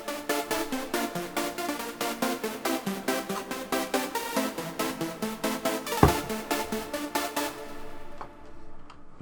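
A synth lead patch called LD Shocked MS, played as a Gladiator-style line with heavy delay and reverb, pulses steadily in rapid repeated notes, then cuts off into a fading reverb tail, with no voices.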